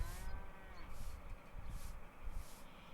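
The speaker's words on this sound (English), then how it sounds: "Moo. Be a nice cow now." Cows lowing in the video game Beware of the Cartographer, several drawn-out moos repeating at a steady pace over a low rumbling game background.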